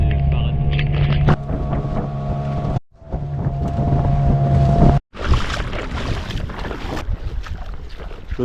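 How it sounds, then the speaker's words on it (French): Motorboat crossing the sea to Sakatia island off Madagascar, a steady loud engine drone mixed with wind buffeting the microphone, broken by two brief dropouts. "Donc on est voilà sur la route, en bateau."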